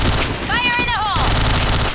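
In a shooter video game, loud bursts of automatic gunshots crack in quick succession, with a brief voice line rising over the firing midway.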